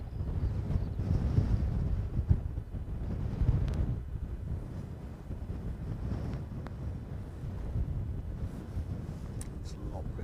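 Strong gale-force wind at an airport buffets the microphone in continuous low rumbling gusts, with speech partly mixed in.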